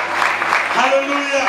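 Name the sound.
church congregation applause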